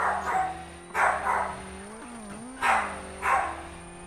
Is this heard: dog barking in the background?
yes